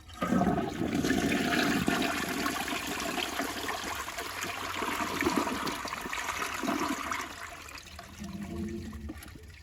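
A Jacuzzi Perfecta toilet flushes with a loud rushing surge of water that swirls and drains steadily for several seconds, then tapers into a softer trickle and refill gurgle near the end.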